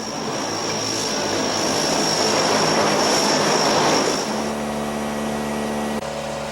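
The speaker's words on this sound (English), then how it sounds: "Inky made a strenuous 4-hour flight to Florida on a Navy cargo plane" Propeller engines of a Navy cargo plane in flight, a loud steady drone with a constant hum that shifts to a lower, evenly pulsing tone near the end.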